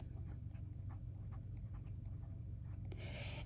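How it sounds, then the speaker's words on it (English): Marker writing the stem of a Spanish verb on a board: quiet, close scratchy strokes in a short irregular series, with no talk over it. "Well, we're going to write the stem"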